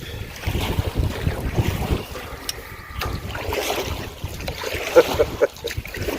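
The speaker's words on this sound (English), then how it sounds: "It's just a little breezy." Wind gusts over a lake around a canoe on Long Lake in Acton township, Minnesota, buffeting the microphone in uneven bursts with faint water lapping and occasional knocks against the hull.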